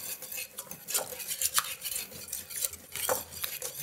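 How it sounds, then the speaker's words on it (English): A cucumber salad dressing with dill is whisked briskly in a bowl, giving close, quick scraping and tapping strokes in uneven bursts with no voices. "we're gonna whisk this to combine"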